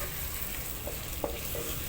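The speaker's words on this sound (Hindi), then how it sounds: "प्याज को थोड़ा ब्राउन होने देंगे।" Chopped onions frying and browning in a pan, giving a steady low sizzle throughout with a couple of faint clinks or stirs, no talking.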